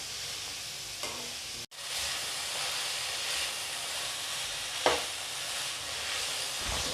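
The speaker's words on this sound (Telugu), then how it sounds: "సో ఫ్రై అవుతుంది, ఇంకొంచెం వేగాలి." Onions fry in a covered pan with a steady, close sizzle and hiss, broken by a brief clatter of the lid or utensil and a soft stir.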